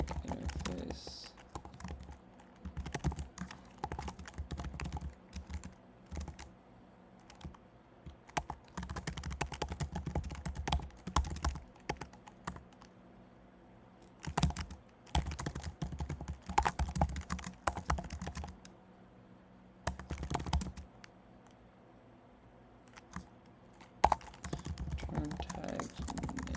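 Steady computer keyboard typing while writing code, with bursts of keystrokes and short pauses across the whole stretch, fairly close and moderately quiet, with no one talking.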